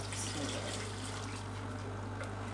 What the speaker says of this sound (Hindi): तो अब मैं इसमें पानी डालने लगी हूँ और मैं गर्म पानी डाल रही हूँ।